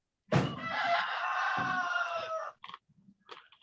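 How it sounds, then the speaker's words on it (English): Rooster on a farm crowing once, a loud close two-second call with a harsh start, followed by a few faint clucks and small noises. "rooster screaming over there?"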